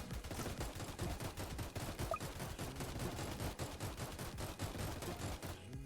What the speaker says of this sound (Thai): อ่ะผมลงแล้วมินิกันนะครับ